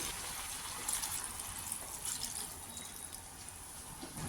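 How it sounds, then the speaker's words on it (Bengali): A cup of water poured into a pan of chilli chicken with meat and vegetables, a soft continuous splashing pour that stays faint and even throughout. "এবার আমি 1 কাপ জল দিয়ে দেব"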